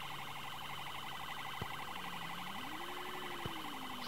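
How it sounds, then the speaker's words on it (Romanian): Police motorcycle siren in an Android mobile game, a wailing electronic tone sweeping up and down, fairly quiet but steady over a constant engine-like drone, with a couple of brief clicks. "Să dăm drumul la sirene."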